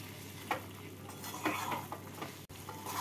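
Mutton liver being stirred with garam masala powder in a pan: repeated scraping strokes of a utensil against the pan over a low, steady sizzle.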